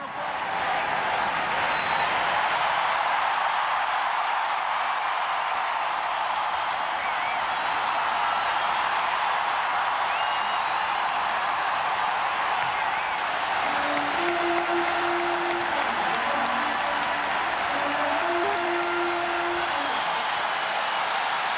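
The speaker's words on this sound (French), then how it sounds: "Quelques minutes plus tard, les acclamations redoublent d'intensité." A large crowd acclaims the newly elected Pope Francis as he comes to the balcony, a dense, steady roar of cheering and applause sustained throughout, loud and continuous with no pause.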